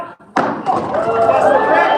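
A sledgehammer strikes a brick at a live children's science lecture, giving one sudden loud impact after a brief hush, followed by a ringing, crashing decay.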